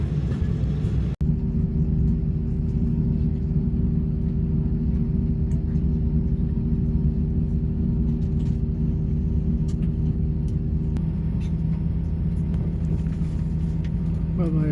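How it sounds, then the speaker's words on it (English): A passenger airliner taxis and begins its takeoff roll at Iloilo airport, heard from inside the cabin as a steady, loud engine rumble with a constant hum, a brief thump early on and a slight rise in tone toward the end. "Next part will be the taxi and takeoff."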